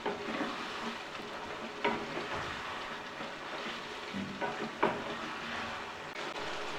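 Chicken pieces for biryani are stirred in a pan over a gas flame, with a steady soft sizzle and a few louder scrapes and clanks of the spoon, close and fairly quiet with no talk.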